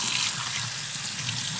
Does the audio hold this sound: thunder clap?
no